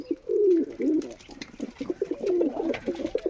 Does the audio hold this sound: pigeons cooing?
yes